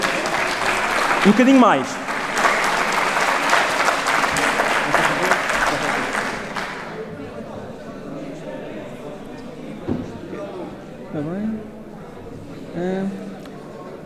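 Audience applause fills a game development conference hall in Lisbon as a speaker of Titan Forge Games is welcomed, loud dense clapping for about seven seconds that then cuts off, followed by someone talking quietly.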